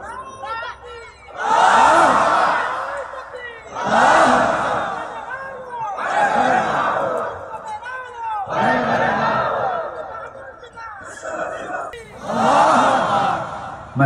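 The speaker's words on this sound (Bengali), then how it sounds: "যে স্লোগানটা দেওয়া হলো এটা আমাদের বদরের স্লোগান" A large crowd at an Islamic sermon gathering chants the Takbir slogan in about five loud, rhythmic call-and-response bursts, each swelling and fading.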